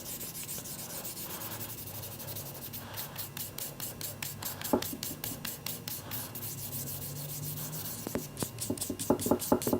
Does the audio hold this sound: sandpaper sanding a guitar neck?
yes